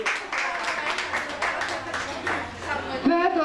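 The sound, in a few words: audience applause for Kəmalə xanım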